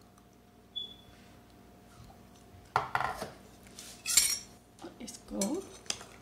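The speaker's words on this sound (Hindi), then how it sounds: "अच्छी तरीके से अब मिक्स कर लेंगे।" Spoon clinking and scraping in a bowl while marinated chicken is mixed with a prepared spice mixture for Karachi-style chicken broast; a few scattered metallic clinks and stirring scrapes, close by, with brief speech at the start.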